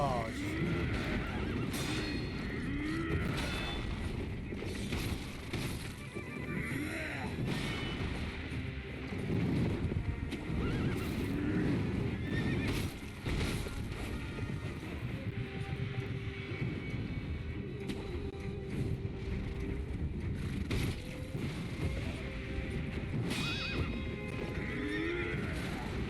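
Horse neighing and hooves clopping in the video game Sekiro, with loud, continuous gameplay noise throughout.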